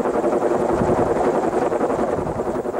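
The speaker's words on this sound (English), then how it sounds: "two Jet Ranger helicopters and their pilots" A Bell Jet Ranger helicopter drones steadily with a thick rotor chop and turbine whine, loud and close for a few seconds with no other sounds.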